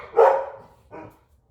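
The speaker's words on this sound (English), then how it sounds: "Get the dogs to stop or put them outside." A dog gives two close barks indoors, the first loud and full, the second shorter and softer after a short pause.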